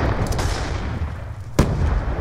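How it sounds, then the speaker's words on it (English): Grenades exploding in the mobile shooter Standoff, a loud sharp blast near the middle over a busy background of gunfire and rumble, with faint earlier pops. "they're throwing nades over A alley from their spawn."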